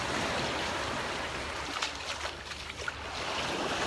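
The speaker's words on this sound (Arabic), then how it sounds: "هذا بيسين في امواج اصطناعية." Artificial waves churning steadily in an outdoor swimming pool in summer, a continuous broadband wash of surging water without pause.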